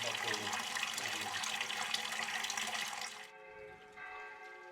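Water pouring from an old refurbished stone fountain in the Italian village of Paternopoli, a steady splashing rush that stops abruptly partway through, leaving quieter trickling and faint background sound.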